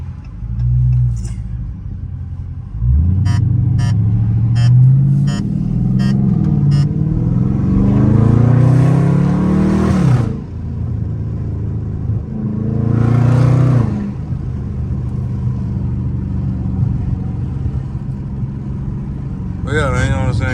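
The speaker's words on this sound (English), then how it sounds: "Quick little POV drive through the hood" A Dodge Scat Pack car drives through a neighborhood, its engine rumbling loudly up close and revving in rising surges, with a voice heard over parts of it.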